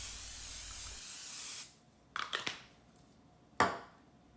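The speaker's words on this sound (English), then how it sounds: "Spray a foil-lined pan with non-stick cooking spray." Non-stick cooking spray hisses onto a foil-lined pan in a broad, loud burst, then a few short rattling handling noises and one more brief spritz, with no voices.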